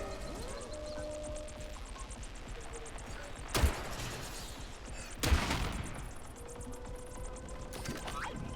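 Two sharp pistol shots in the Atomic Heart video game, spaced about two seconds apart, loud against a quiet mechanical background hum.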